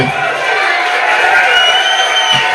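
A comedy club audience cheers and whoops in a sustained burst of crowd noise that fills the room, with a few voices standing out.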